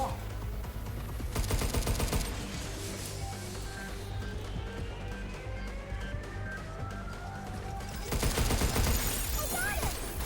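Gunfire in the game Pragmata comes in two loud rapid bursts near the start and end, with quieter shots, ricochets and rising electronic tones in between, and a voice speaks briefly.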